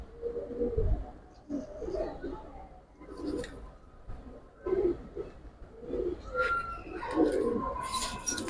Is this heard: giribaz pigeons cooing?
yes